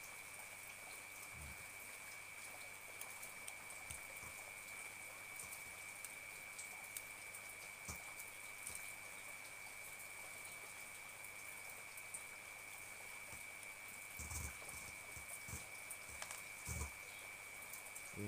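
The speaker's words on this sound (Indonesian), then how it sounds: "Nggak ada suara apa-apa ya, kecuali hanya rintik-rintik air hujan." Light raindrops fall sparsely at night and tap quietly as scattered soft drips against a faint steady electrical hum. The scene is otherwise quiet.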